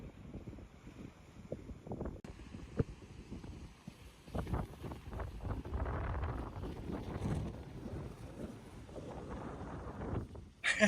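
Strong wind buffets the microphone at a beach in Santa Catarina, Brazil, a steady low roar with gusting surges throughout, loud and close, with possible faint surf underneath.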